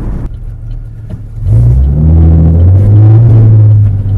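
A car engine revs hard through headers, a cat delete and race bullet mufflers, a deep, rumbling race exhaust growing louder and holding a throaty roar close by.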